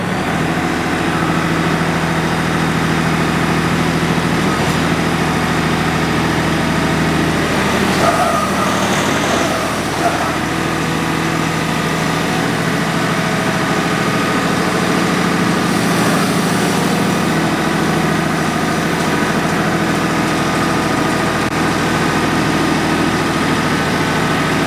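A Kioti tractor engine runs steadily throughout while loading onto a trailer, a low idling rumble with a few brief clanks and shifts in the middle, with no talking.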